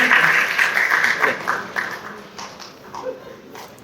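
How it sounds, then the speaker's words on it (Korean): Brief applause from an audience at a church training lecture, a burst of clapping that quickly dies down into scattered claps and faint room sounds. "박수 한번 부탁드리겠습니다."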